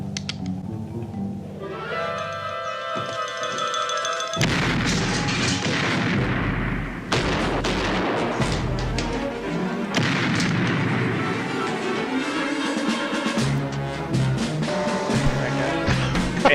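Heavy gunfire and booming blasts from a film scene, continuous and loud, with dense rolling explosions layered over a steady rumble and no clear talking.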